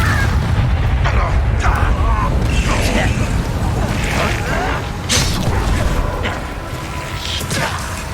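Confringo fire spell explosions in the Hogwarts Legacy video game, fought in a mine, land as a string of sharp booming blasts and clanks scattered through dense, continuous battle noise.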